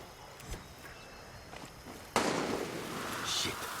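A loud burst of gunfire in the Far Cry 6 game erupts midway through, a sudden sustained crackle following quieter ambient noise and faint distant pops.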